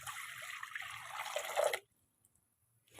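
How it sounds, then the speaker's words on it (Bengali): Water is poured into a pot on a gas stove in a short, splashing stream that lasts under two seconds, then cuts off into near silence. "এবার এর মধ্যে জল দিয়ে দেবো।"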